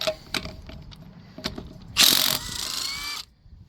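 A Ridgid 1/2-inch impact wrench works on a one-ton Ford F350 truck, giving a few short rattling bursts and then one loud sustained hammering run before cutting off.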